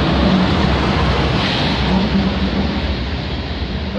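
CP freight train at Hurst Place in Hamilton, Ontario, near the GO station, giving a loud, continuous low rumble and broadband roar of rolling cars passing close by.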